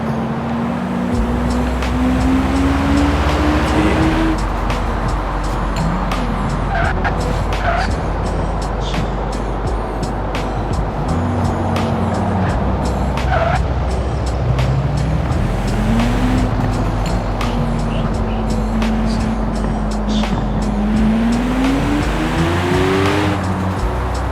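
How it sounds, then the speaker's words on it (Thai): Simulated Lamborghini Huracan Performante engine in Forza Horizon 4 roars loud and steady through a top speed run, climbing through gears with repeated upshifts and rising revs, occasional tire squeal, no talking. "ผมทำท็อปสปีดให้ดูนะครับว่ามันจะได้เท่าไหร่นะครับ"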